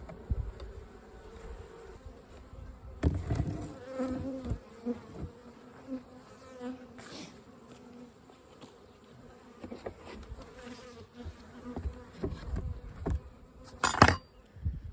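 Honeybees swarm and buzz steadily around an open hive during a spring inspection, a close, continuous drone with a few louder passes near the microphone and no one talking.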